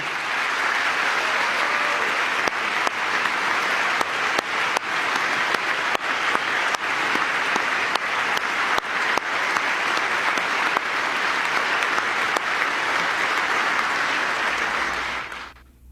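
An audience applauds a family in a large hall. The clapping is sustained, loud and dense, with sharper individual claps standing out. It holds steady for about fifteen seconds, then stops abruptly.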